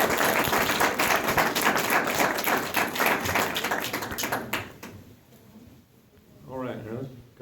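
Audience applause for a live interview guest, a dense run of many hands clapping that fills the first few seconds, then fades out before a voice speaks near the end.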